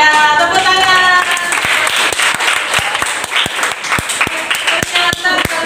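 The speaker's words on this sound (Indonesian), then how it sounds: "tepuk tangan" Students applaud in a classroom, starting in a mixed wash of clapping and voices, then settling into sharp, evenly spaced claps that ring out clearly near the listener.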